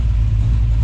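A Holden HT Monaro engine idles at low revs, around 900, a loud, close, steady low throb with no voices.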